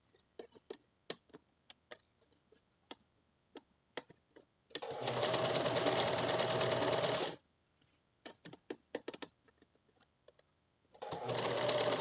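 A sewing machine stitching a puff sleeve seam on a blouse in two rapid bursts of close mechanical whirring, separated by quiet clicks and fabric handling.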